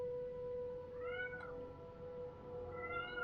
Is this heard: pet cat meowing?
yes